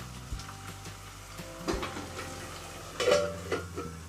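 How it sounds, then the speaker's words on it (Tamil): Tomatoes for brinjal gravy sauté under a lid in a pan, giving a soft, low sizzle with a few light clinks of pan and utensil. "தக்காளியை சேர்த்ததுக்கப்புறம் தக்காளியும் வதங்கிட்டோம். அதனால் ஒரு 2 நிமிஷம் மூடி போட்டு வச்சிடலாம்."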